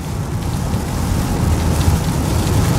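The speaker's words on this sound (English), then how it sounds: "Of course it's raining." Heavy rain drums steadily on a 2007 Toyota Camry Hybrid driving on a highway, a loud, even wash of noise with low rumble beneath and no voices.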